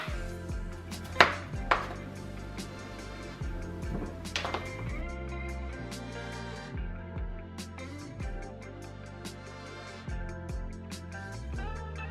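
A knife chops potatoes into pieces on a board with a series of sharp, close taps in an uneven rhythm, each strike ringing briefly, with a couple of louder thumps early on and no talking.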